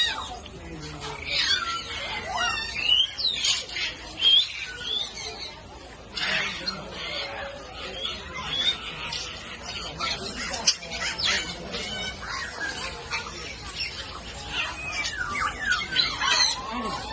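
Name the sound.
parrots squawking in a safari park parrot zone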